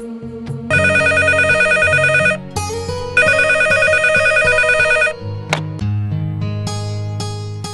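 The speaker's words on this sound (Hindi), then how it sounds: "मालकिन आरती दीदी का फोन है।" A telephone rings loudly in a Haryanvi film scene, repeated electronic ring bursts with short pauses between them, clear and close with no talking over it.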